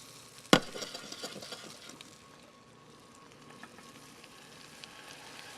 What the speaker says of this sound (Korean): 살짝 볶아주시고